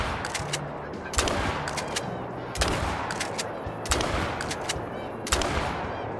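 Shotgun blasts aimed at geese in a goose hunting video game, four loud sharp shots spaced about 1.3 seconds apart over a steady ambient background.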